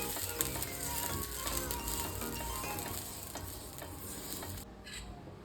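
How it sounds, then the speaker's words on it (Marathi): Oil heating in a pan for making dosa, giving a continuous close crackling sizzle that eases slightly toward the end with no talking. "आता मी पॅन गरम करत ठेवलेला आहे, त्याच्यावर थोडंसं तेल टाकायचं आहे।"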